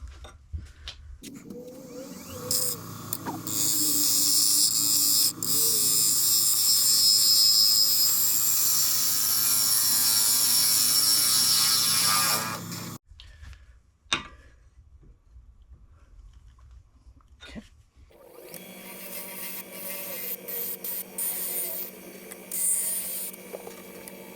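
A wood lathe turns a dovetailed bowl as fine wispy shavings come off, making a loud sustained whirring and scraping with a steady hum. The cutting stops briefly, then resumes more quietly.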